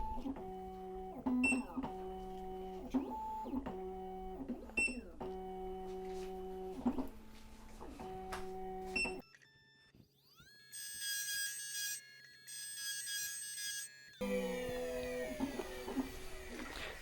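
Black Widow key machine plunge cutting a single-sided key blank clamped in its vise: repeated electronic tones and motor pulses, then a steady high-pitched cutting whine lasting several seconds, with talking at times.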